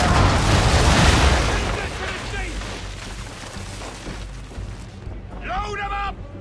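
Ship cannons in Assassin's Creed 3 unleash a loud, rumbling broadside that swells at the start and rolls away into a long decaying boom, with a voice shouting over the tail end.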